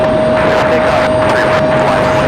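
A Frontier airliner departs the runway at Raleigh-Durham International Airport, with a loud, steady jet engine roar and a thin high whine persisting from start to finish.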